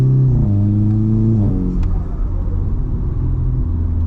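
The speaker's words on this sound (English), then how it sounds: "if you double tap the accelerator when letting go, the turbo will flutter" VW Golf MK6 R with DSG: engine revs rise and fall as the accelerator is double-tapped and released, followed by a low fluttering rumble from the turbo at close range.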